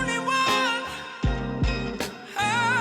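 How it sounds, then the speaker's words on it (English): Octave guitar sound in a mixed track, bright layered tones with wavering upper harmonics alongside deep thumping bass hits, played back at moderate level with shifting chords and no speech. "the octave guitar sound, which really sounds ugly in the most beautiful way"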